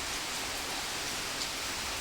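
Steady rain hisses evenly throughout, a dense wash of falling water with no voices or breaks.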